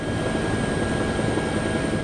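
A helicopter in flight over snowy winter mountains and riverside gives a steady, loud, close rotor and engine roar that holds evenly throughout, with no voices.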